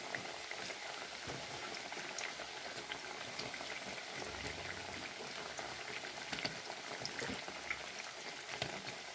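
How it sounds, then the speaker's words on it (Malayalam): Grated cassava fries in hot oil with a dense, steady bubbling sizzle that runs unbroken throughout, moderately loud and close, with no voices. "അപ്പോൾ ഇനി നമുക്കത് വറുത്തെടുക്കാം."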